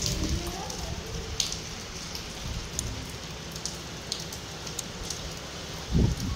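Steady rain falls across an outdoor yard, a dense even patter throughout with a few sharper drops and one brief thump near the end; voices talk faintly beneath it.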